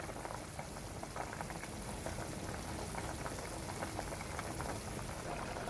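Bamboo shoot and pork bone soup simmers in a pot, giving a steady close bubbling and crackling hiss that runs without a break the whole time, with no voices over it.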